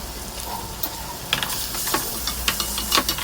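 Cut taro root pieces tumble into a pot for a tamarind stew with eggs, a series of soft knocks and clatters over a low simmering sizzle.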